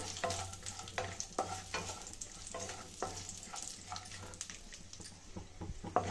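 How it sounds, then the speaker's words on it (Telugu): Dry fruits roasting in a pan for payasam, with steady close stirring scrapes over a continuous soft sizzle and no talking. "ఇందులో డ్రై ఫ్రూట్స్ రోస్ట్ చేసుకుందామండి గోల్డెన్ బ్రౌన్ కలర్ వచ్చేంత వరకు రోస్ట్ చేసుకున్నామండి"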